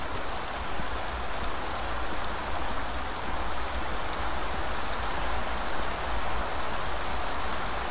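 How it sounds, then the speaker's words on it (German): Steady, loud rushing of a waterfall in the video game Beyond Eyes, a dense even roar of falling water that holds without a break and with no voices. "Der Wasserfall ist auch ziemlich laut."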